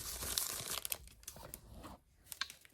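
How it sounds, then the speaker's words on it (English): A sheet of parchment paper tears in several quick ripping and crinkling bursts, close and fairly loud, with brief pauses between pulls and no voices. "I will typically take a piece of parchment paper"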